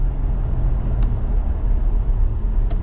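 Steady, loud road rumble from a 2024 Porsche Macan Turbo S electric SUV with 640 PS driving fast, a continuous drone of tyre and wind noise with a few faint brief ticks.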